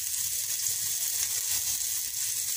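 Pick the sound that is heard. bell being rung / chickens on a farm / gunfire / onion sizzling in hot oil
onion sizzling in hot oil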